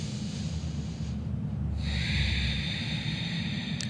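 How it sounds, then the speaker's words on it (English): Steady deep breathing during a yoga balance pose, a continuous low airy rush with a hissy exhale sweeping in midway and holding to the end, close and unbroken, with no talking. "Take 3 breaths here."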